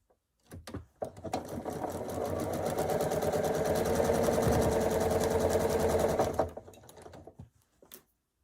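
A sewing machine runs steadily for about five seconds, joining two quilt block units for a Forest Flora quilt, with a brief start-up and a few faint mechanical clicks as it stops.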